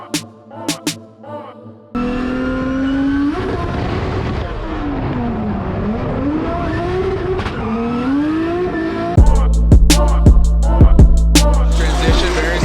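A 2JZ-swapped BMW E92 drift car screaming through a drift, the engine note rising and falling loudly for several seconds with tire squeal, then a sharp loud burst of engine noise near the end.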